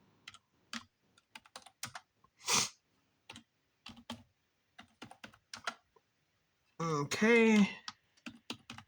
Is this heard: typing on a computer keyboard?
yes